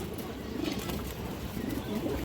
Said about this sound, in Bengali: একবারে সুস্থ সবল কবুতর আছে